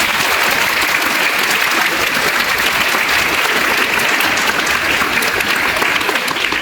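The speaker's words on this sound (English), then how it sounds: "So a big round of applause for them" Dense, steady applause from a large audience at a student parliament election event, loud and continuous throughout with no pauses.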